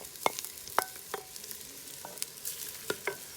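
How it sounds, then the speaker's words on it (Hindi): Onions, garlic and ginger fry in a pot for chicken korma, a soft continuous sizzle broken by several sharp clacks and scrapes of a spoon stirring, fairly faint and close. "लहसुन अदरक को भी हमने थोड़ा सा लाल कर लेना, थोड़ा सा भूनना इसको।"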